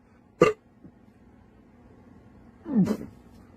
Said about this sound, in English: Sprite burps.